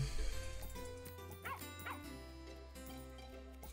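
Short dog barks and yips from the farming video game Plantera, two quick bursts near the middle over steady game music and background hum.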